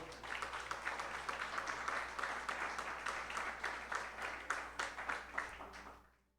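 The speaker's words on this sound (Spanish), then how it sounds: "Dele un aplauso al Señor." A church congregation applauds during a Spanish-language worship service, a thick wash of many hands clapping, steady but fairly distant and soft under a low hum, then fading out at the end.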